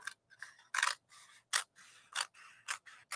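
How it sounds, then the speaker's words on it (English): Scissors snip through a Siser heat transfer vinyl decal sheet in a run of about seven crisp, close cuts, each a short bright slice with quiet pauses between. "I'm going to now take my scissors."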